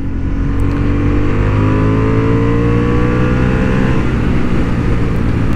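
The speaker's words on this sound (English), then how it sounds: "And the sound of the exhaust is not bad either." A Honda Hornet 750 motorcycle's exhaust roars loudly and steadily on a racing track, its pitch climbing through the gears as it accelerates hard, with no voices.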